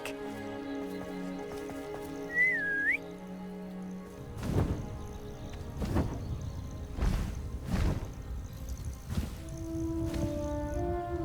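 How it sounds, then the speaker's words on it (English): A short, faint, gliding whistle sounds in the video game Hogwarts Legacy over soft background music, followed by a series of heavy, evenly spaced whooshing thumps. "It was a very faint whistle."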